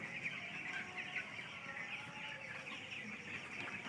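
Chickens cluck softly and continuously inside a poultry farm shed at night, a faint low murmur of many birds with no talking.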